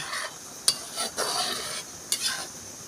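Coconut milk bubbles down toward latik in a pan with a soft, steady sizzle, broken by a couple of sharp clinks and scrapes of a utensil against the pan, close and fairly quiet.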